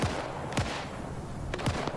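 Sporadic gunfire in Arma 3 during a large World War II-era German versus Soviet multiplayer battle, a few sharp distant reports scattered over a constant noisy wash of battlefield ambience.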